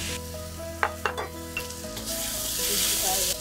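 Stirring and frying in a wok after cornstarch goes in over low heat, a few sharp utensil knocks early on, then a steady close sizzle that swells toward the end.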